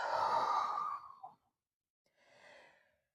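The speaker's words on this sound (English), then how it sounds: "Breathe." Breathing during a yoga class: a long, loud exhale like a sigh, then a pause and a softer breath, close to the listener.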